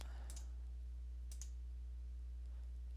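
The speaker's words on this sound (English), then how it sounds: "left click on apply and OK" Two quick, faint computer mouse clicks about a second apart, pressing Apply and OK in a Windows settings dialog, over a steady low electrical hum.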